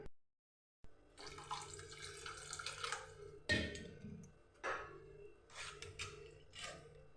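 Water runs and splashes into a pan of potato masala in steady bursts, with a louder gush midway and a few clinks of metal, no talking.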